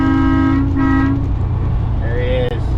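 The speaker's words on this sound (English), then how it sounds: "We'll give him a honk." A farm vehicle's horn sounds in a clear, sustained honk over a steady engine rumble, then trails into fainter tonal sounds amid the vehicle noise.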